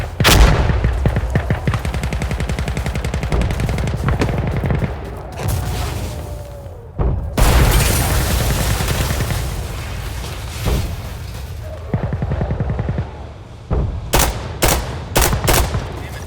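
Gunfire and chemical mortar rounds in the shooter game Insurgency: Sandstorm: loud rapid automatic bursts, heavy booming impacts and rumbling blasts with brief lulls, ending in a few sharp separate shots, close and dominant with no speech.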